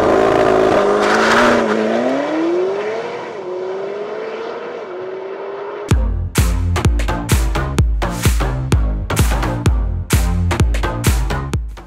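McLaren 720S supercar engine, 2022 model, loud and close: a rising, sustained engine tone for about six seconds, then a sharp change to rapid, punchy repeated bursts like quick gear changes or pops, no talking.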